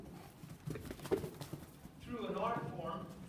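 Hooves of a horse moving around a pen shuffle and thud irregularly on soft ground at close range, with a person talking over them and a brief higher chirp later on.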